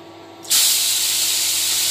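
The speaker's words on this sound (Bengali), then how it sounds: "এবার আমি ভাজার জন্য চিংড়ি মাছটা ছেড়ে দেবো" Quiet pan hum, then a sudden loud burst of hissing sizzle as shrimp hit hot oil, continuing steadily to the end.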